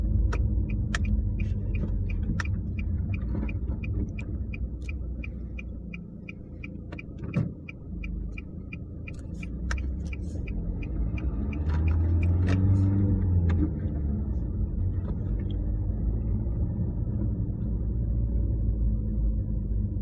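A car on a driving lesson rolls along with a steady low engine rumble and road noise, a turn-signal ticking rhythmically through the first half, heard from inside the cabin with no talking.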